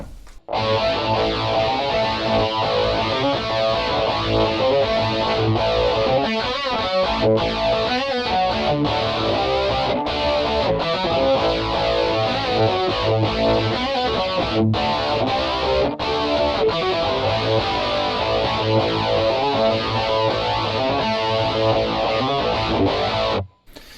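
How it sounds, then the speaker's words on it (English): A G.O.A.T. Generator distortion pedal drives an electric guitar into thick, saturated distortion, loud and sustained with rhythmic chords and brief choppy stops, played alone for about twenty-four seconds. "And the G.O.A.T generator sounds like this."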